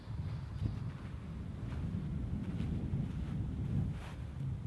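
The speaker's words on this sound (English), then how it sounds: "Quite a bit of wind behind." Steady low wind rumble buffets the microphone outdoors on a golf course at Bay Island, a continuous broadband roar with gusty swells throughout and no talk.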